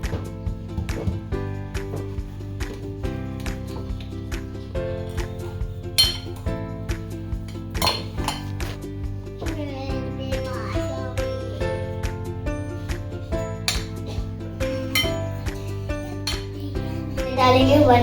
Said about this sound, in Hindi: अब हम इसे मैश करेंगे।